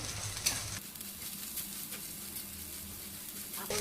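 Oil sizzles in a nonstick pan while things are stirred before ash gourd goes in for a vegetarian ghonto, a soft, steady frying hiss with a few light scrapes at the start and end.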